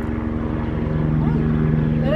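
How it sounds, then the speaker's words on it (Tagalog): A helicopter-like aircraft flies over a backyard vegetable garden, giving a steady, loud, low droning engine hum with a faint rising whine near the end. "Yung parang helicopter."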